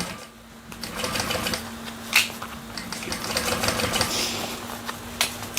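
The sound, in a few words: sewing machine stitching a Lyra bag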